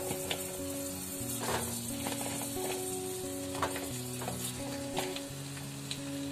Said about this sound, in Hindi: ऑयल ऐड करने के बाद हम यहाँ पे ये जो पलवल है वो ऐड करेंगे। इसे हमें पलवल आलू को फ्राई कर लेना है पहले।